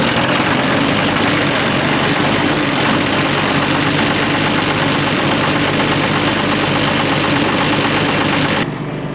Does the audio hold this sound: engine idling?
yes